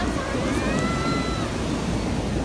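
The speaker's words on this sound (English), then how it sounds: "Alright, a big wave is coming." Ocean waves on a California beach make a steady, loud wash of surf with wind buffeting the microphone, and faint voices come through in the background.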